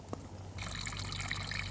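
Water bubbling at a boil in a pan of eggs on the stove, a steady close rolling hiss and gurgle that starts suddenly and continues evenly.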